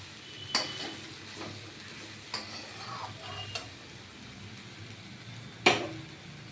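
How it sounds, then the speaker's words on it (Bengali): Shredded cabbage fries in a pan for Bengali cabbage ghonto, a soft steady sizzle broken by occasional spatula scrapes and taps, one sharper clack near the end, quiet and close with no talk. "সুন্দর করে কফিগুলোকে একটু ভেজে নিয়ে তারপরে আমি ঢেকে দেবো"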